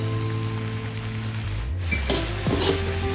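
Wide rice noodles for drunken noodles sizzle and crackle as they are stir-fried in a pan, a steady frying hiss with a few scraping stirs near the end, over a faint background hum.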